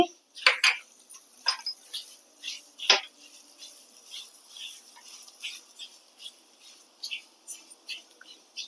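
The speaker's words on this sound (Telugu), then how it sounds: "ఇప్పుడు మెంతులు వేగినాయి ధనియాలు కూడా వేయాలి" Fenugreek and coriander seeds dry roasting in a pan: light scraping and clinks from stirring, with a faint rustle of seeds moving on the dry metal and a few sharper taps, quiet and close.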